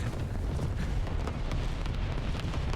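A loud, rumbling explosion in War Thunder with a sustained roaring, crackling tail, dense low-end boom filling the whole stretch.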